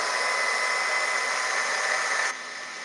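Heat embossing gun blowing hot air over loose embossing powder on a handmade card, a steady close whooshing hiss that drops to a softer level near the end.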